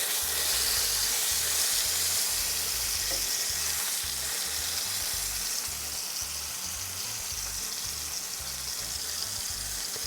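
Pot roast beef searing in hot oil gives a continuous, close, bright frying sizzle, steady and unbroken for ten seconds with a low pulsing rumble beneath.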